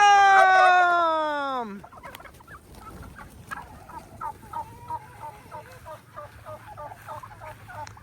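A loud turkey gobble opens, then a flurry of softer clucks, yelps and wingbeat-like rustles from several turkeys being released from a pen continues steadily outdoors.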